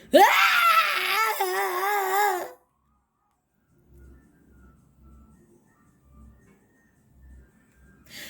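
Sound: cartoon chili pepper character crying and sobbing

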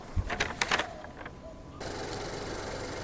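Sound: Honda City 1.0 turbo three-cylinder engine running

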